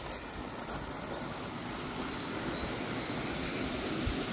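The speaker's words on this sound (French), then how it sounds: "Une espèce de petite cascade là" Water spilling steadily over a small cascade at a canal lock, a continuous broadband rushing that stays close and even, with some wind buffeting the microphone.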